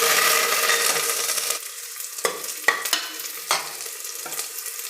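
Chopped onion and curry leaves hit hot oil in a pan with a loud hiss that fades, followed by several sharp scraping stirs of a spoon against the pan; no talking.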